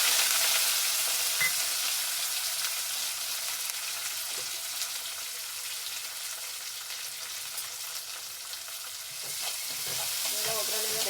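Curry leaves and onion fry in hot oil as tempering for bisi bele bath, giving a steady, close sizzle with stirring scrapes and a few clinks toward the end.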